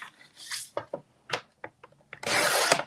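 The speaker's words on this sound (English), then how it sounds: "I'm just going to trim that ever so slightly more" Cardstock is trimmed on a paper trimmer at a scrapbooking desk: scattered light taps and short scrapes, then a loud, sustained slicing rasp as the blade runs across the sheet near the end.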